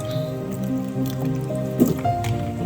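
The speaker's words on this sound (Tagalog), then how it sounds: "Now after 15 minutes you have to drain it." Wild blackberries that have soaked in water with baking soda are drained into a strainer, giving a soft, steady trickle and drip of water with a few wet squishes. The sound is close and moderately quiet, with no voices.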